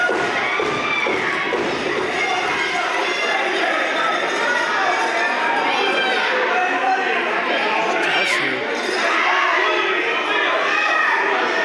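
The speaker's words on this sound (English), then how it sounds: "You can hear this Philadelphia crowd fully behind JT Paradox." A Philadelphia crowd at an independent pro wrestling show cheers and shouts steadily throughout, a dense roar of voices with occasional thuds, with a commentator talking over it.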